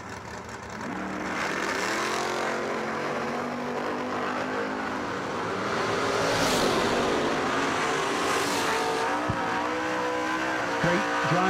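Door car drag racers roaring down the strip at the Moser Engineering Door Car Duel, loud sustained engine noise with rising and falling pitch as cars pass, tire squeal near the end.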